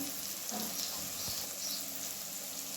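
Homemade spice masala roasting in a pan gives a soft, steady sizzle and crackle, continuous and fairly quiet throughout.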